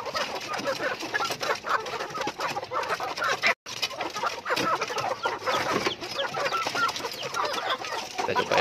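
A flock of chickens clucks and squawks busily while being fed fermented rice bran, a continuous chorus of close and overlapping calls with no pauses.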